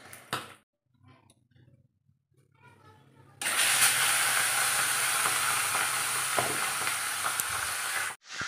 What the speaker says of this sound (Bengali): আর মাছ ভাজা হবে